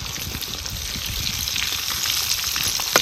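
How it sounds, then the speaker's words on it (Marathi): Fish fillets sizzling and crackling steadily in hot oil in a pan, a dense, continuous fry with small pops throughout and no talking. "मस्त असं बघा भाजला जातोय आपला मासा."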